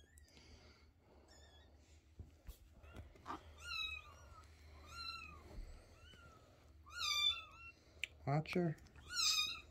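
A bottle-fed orange kitten gives a series of high, thin meows, growing louder and more frequent toward the end, while people talk quietly nearby.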